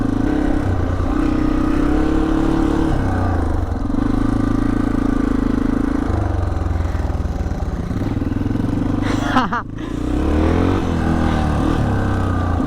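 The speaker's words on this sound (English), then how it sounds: "little dirt bike's so much better on there" A dirt bike engine revs and drones steadily at close range while being ridden around a skatepark, the pitch stepping up and down with throttle changes and a brief sharp clatter near the end.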